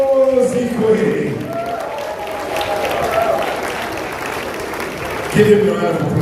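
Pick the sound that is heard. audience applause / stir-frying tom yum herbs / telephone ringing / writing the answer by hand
audience applause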